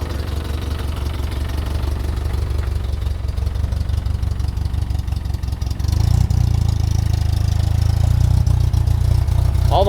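A Jeep Comanche engine idles after starting, a steady low rumble that deepens and grows louder partway through, with faint knocking texture and no talk.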